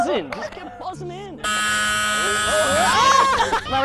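On a game show, an electronic buzzer sounds as a loud, sustained tone lasting over a second, with people talking before and after it.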